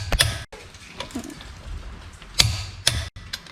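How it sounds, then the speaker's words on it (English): A torque wrench tightens lug nuts on a truck's front wheel during a winter tire change, giving a few sharp, loud metallic clicks spaced apart over low garage rumble, with no talking. "So now we're gonna lower the front of the car so we can torque the lug nuts."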